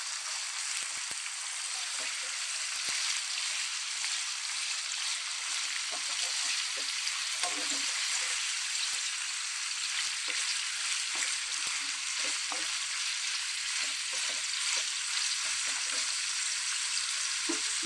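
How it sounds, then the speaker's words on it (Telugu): Chicken fries in a pan, a constant bright hiss of sizzling oil throughout, with scattered soft clinks and scrapes as the pieces are stirred, and a voice talking intermittently over it. "ఇంకోసారి వేయించుకున్నామండి చికెన్"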